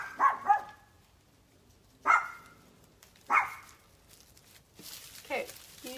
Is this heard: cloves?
no